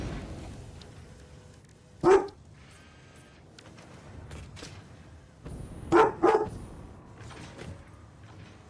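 A dog barks in two separate bursts at a moderate distance, one single bark followed by a quick double bark a few seconds later, over a low background hum.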